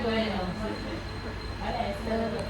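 A steady train rumble fills the background with a continuous hum and a thin high tone, while people talk over it.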